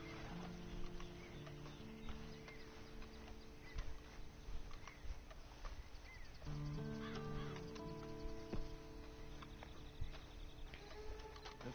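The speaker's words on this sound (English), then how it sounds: "And you better get on this horse." Horse hooves clip-clop steadily in the Red Dead Online video game, a moderately quiet rhythmic plodding under layered game ambience with birdsong and occasional tonal music, and no one speaking.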